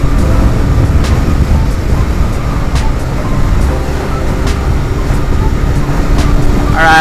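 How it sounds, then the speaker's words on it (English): Heavy wind roar buffeting a rider on a Lifan KP Mini 150cc motorcycle with tiny tires, a steady loud broadband rush with faint ticking and a brief brighter burst near the end. "Man, there's a lot of wind."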